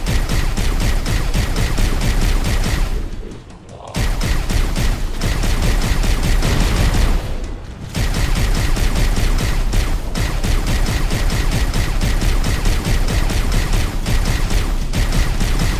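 Ghost vehicle plasma cannons fire in rapid, continuous bursts during a Halo Anniversary Legendary mission, loud and dense, with two brief pauses before the stream resumes.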